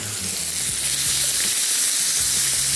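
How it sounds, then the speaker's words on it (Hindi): Half a kilo of chicken sizzles and fries in a hot pan, giving a loud, steady hiss with faint stirring and scraping close by. "इसके बाद इसमें आ गया आधा किलो चिकन और इसकी अब हम करेंगे बुनाई।"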